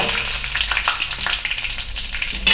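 Mustard seeds, dried red chilies, curry leaves and a pinch of asafoetida tempered in hot ghee for bisi bele bath, a loud, close, continuous sizzle with fine popping crackles and no voices.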